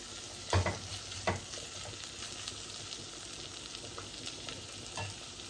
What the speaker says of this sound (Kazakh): жаңағы қияр мен жуаның ішіне чеснокты да салып жібердім. Бірге қуырып алыңыздар.